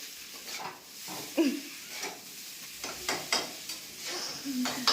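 Egg bhurji stirred and frying in a kadai, with a steady sizzle and scattered scraping stirs of the spatula through the pan, close and moderately loud, with a few faint voices in the background.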